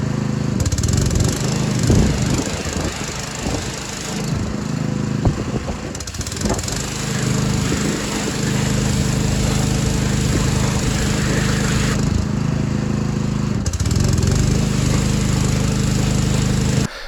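A Polish-made Aries EA 3000AVR 3 kW generator runs loud and steady while powering a pressure washer, its engine drone dipping briefly under load a few times before settling back.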